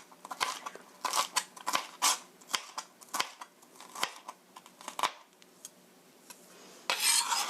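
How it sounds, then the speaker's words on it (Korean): Knife chopping and mincing onion on a cutting board for spaghetti with soybean paste sauce, a quick run of sharp, close taps in an uneven rhythm, ending in a brief rustle of scraping. "썰어서 다져주세요."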